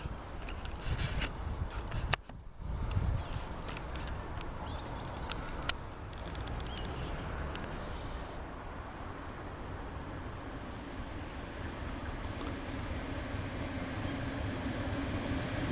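A Merseyrail class 507/508 electric multiple unit train approaches on the Liverpool network, a faint, distant broadband rumble that swells gradually and steadily, with a few small clicks early on.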